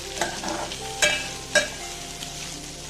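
Sabudana khichdi with roasted peanuts stirred in a hot pan, soft sizzling under a few distinct spoon scrapes and knocks against the pan.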